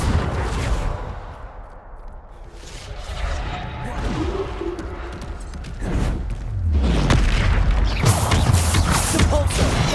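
The Bombarda explosion spell goes off in Hogwarts Legacy amid a magic duel, heard as rumbling booms and crashing impacts that swell into a sustained loud blast, with voices and combat noises mixed in.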